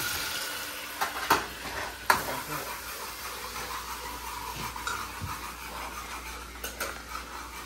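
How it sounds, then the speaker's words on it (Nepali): Garlic fries in a hot pan for a fish curry, giving a steady, moderately loud sizzle with occasional scraping clicks from stirring throughout. "गार्लिकलाई भुटेर अलिकति ब्राउन हुने गयो"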